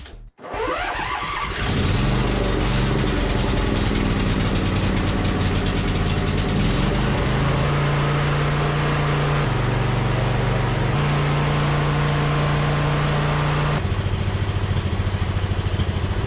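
A Craftsman zero-turn mower engine starts with a brief crank, then runs steadily and loud close by, its droning tone stepping up and down several times as the throttle is adjusted, with no voices.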